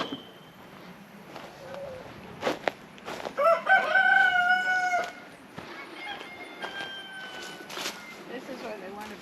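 Chickens cluck and a rooster crows nearby, with scattered knocks and a person speaking briefly in the background.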